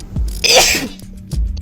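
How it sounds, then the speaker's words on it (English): A person sneezes once, loud and close, a sharp burst with a short intake and breathy tail, part of a long run of repeated sneezes. "14 sneezes."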